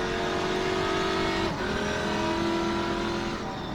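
A 6.2 litre rear-wheel-drive V8 race car in a GT3 sim racing game, its engine droning loud and steady, briefly dipping as it shifts gear near the middle before holding a high, sustained note.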